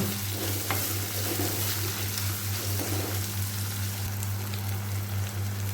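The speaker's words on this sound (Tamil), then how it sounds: "இந்த தக்காளியும் நல்லா வேகிற அளவுக்கு கிண்டி விட்டுடலாம்" Tomatoes fry and get stirred in a pan for a beef fry, giving a continuous close sizzle with occasional stirring scrapes over a steady low hum.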